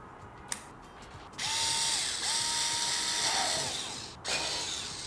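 A Xiaomi Mijia cordless electric screwdriver with a flat bit drives a screw, giving a steady whirring motor hum in two long runs after a brief click, fairly quiet and close.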